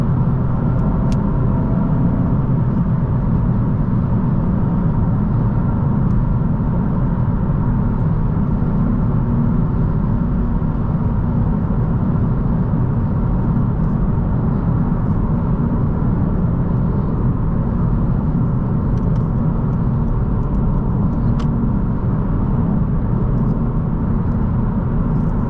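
A 2023 Honda Civic Si engine droning steadily under way, a constant low rumble with road noise, loud and unbroken throughout with no one talking.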